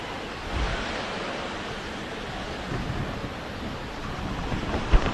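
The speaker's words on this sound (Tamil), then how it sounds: "அங்க ஒரு அருவி ஊத்துது." Steady broadband rushing of a waterfall in the Kolli Hills, distant and continuous, as heard from a viewpoint, with faint wind buffeting.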